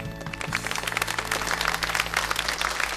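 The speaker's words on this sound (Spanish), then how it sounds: "Aplausos para recibir" Audience applause welcoming a solo singer onto the stage at a live show, a dense steady clatter of many hands lasting the whole stretch, with a sustained low tone underneath.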